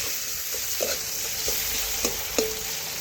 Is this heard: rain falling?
no